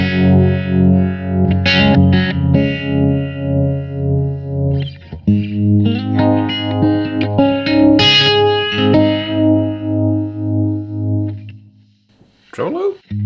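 An electric guitar runs through the tremolo effect of a Blackstar ID:Core V4 amp, giving loud, sustained chords and notes with a pulsing, wavering shimmer that briefly dips near the end.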